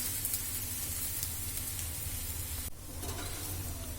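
Thalipeeth, a bottle gourd flatbread, frying in oil on a hot pan, giving a steady close hiss and sizzle that runs throughout, with a brief dip before it resumes.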